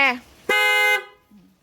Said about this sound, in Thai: เวลาบีบแตร